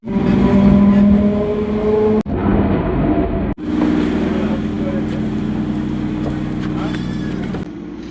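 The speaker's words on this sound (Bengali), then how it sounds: "আমাদের ট্রেন ঢুকছে।" A train pulling into Malatipur station rumbles and drones loudly and continuously close by, its low engine hum steady with brief breaks, while voices talk faintly underneath.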